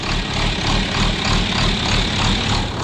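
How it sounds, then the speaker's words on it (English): A John Deere tractor engine runs at a steady, loud, low rumble, droning evenly from close by with no pauses. "He's got the John Deere tractor started."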